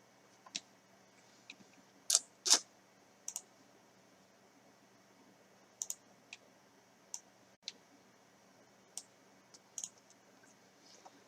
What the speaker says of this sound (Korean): 더블 클릭.